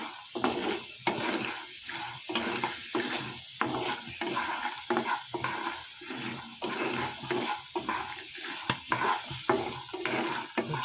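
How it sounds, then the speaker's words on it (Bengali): Soaked chickpeas fry and bubble in a pan beside a tempering of chillies, a continuous sizzle broken by regular scraping stirs that recur every second or so, close and fairly quiet. "ছোলা ভাজাটাও হয়ে গেছে, ফুটছে"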